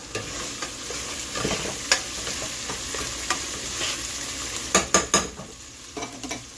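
Pesto pasta being stirred in a pan, with a steady close sizzle of frying food and repeated scraping and tapping clicks from the utensil against the pan, louder knocks bunching near the end.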